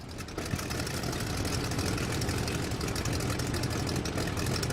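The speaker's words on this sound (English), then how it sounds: "we need to start the engine here, so do that with the E key." A biplane engine idles in the World War I flight game Rise of Flight, a steady, loud, dense rumble that holds at an even level throughout with no talk over it.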